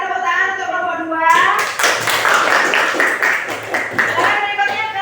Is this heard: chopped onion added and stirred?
no